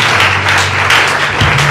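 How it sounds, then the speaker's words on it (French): Church congregation applauding together at a service in Kinshasa, a steady, dense wash of clapping heard up close, loud and continuous with no speech over it. "On acclame le Seigneur."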